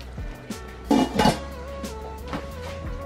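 A metal lid is set over a paella pan of nearly cooked rice, giving a couple of close clattering clanks with a faint ring, amid light kitchen clatter and background hum.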